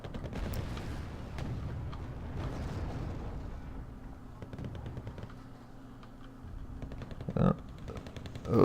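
Artillery fire support rains down in a strategy battle, with repeated booming impacts and crackling gunfire bursts, a sharp louder blast near the end, under a commentator's ongoing talk.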